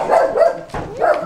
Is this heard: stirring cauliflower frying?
no